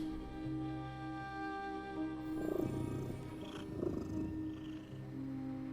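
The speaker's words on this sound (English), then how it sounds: "I hear a cat purring." A cat purrs within the video game The Midnight Walk, a steady low rumbling drone that swells softly now and then, mixed with faint ambient game tones and no talking.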